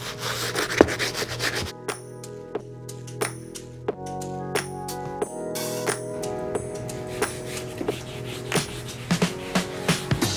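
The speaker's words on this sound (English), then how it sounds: "So now I'm going to be hitting these grimy outsoles using our stiff bristle brush." A stiff bristle brush scrubs the grimy outsoles of dirty suede sneakers with rapid, rhythmic rasping strokes up close. Small clicks and taps from the brush striking the sole are scattered throughout, with no talking.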